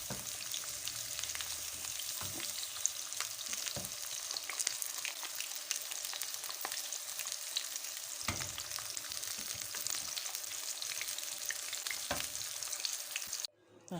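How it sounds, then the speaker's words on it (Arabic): Burgers frying in oil give a continuous close sizzle with scattered pops and crackles, steady throughout. "ندهن الزيت اهي، حطينا البرجرات هنحمرهم تحميرة حلوة"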